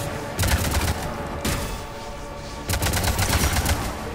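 Gunfire in the Mass Effect 3 video game as alien eggs are shot: loud, sustained rapid-fire bursts, one long volley, a short pause, then another continuous burst, dense and close with no talking over it.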